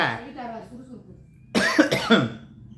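A voice speaks briefly, then after a pause a person coughs several times in quick succession, close and loud.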